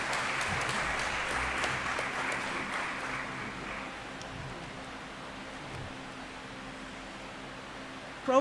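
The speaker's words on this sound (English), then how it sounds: "A round of applause for her, please." An audience applauds at a university installation ceremony in Ghana, a dense, even clapping that is strongest at first and then fades into a softer patter.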